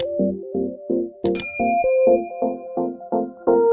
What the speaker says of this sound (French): Abonne-toi, active la cloche de notification.